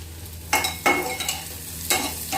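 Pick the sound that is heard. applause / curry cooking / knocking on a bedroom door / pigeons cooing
curry cooking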